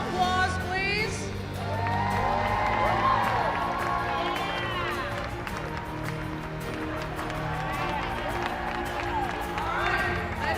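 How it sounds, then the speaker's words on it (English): An arena crowd at the Women's Basketball Hall of Fame induction ceremony cheers, whoops and applauds in a loud, sustained roar, with shouts rising above the clapping throughout. "another round of applause, please"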